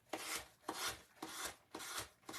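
Sandpaper rasps against the edge of a napkin decoupage craft piece in five even back-and-forth strokes, close and fairly soft with a steady rhythm.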